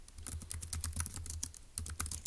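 Quick, light clicks of a computer keyboard as notes are typed, a fast irregular run of keystrokes close by with no talk.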